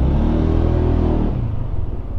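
A 2020 Yamaha NMAX scooter engine is heard close and loud while being parked, its rumble settling and dropping in pitch as it slows to a rougher idle.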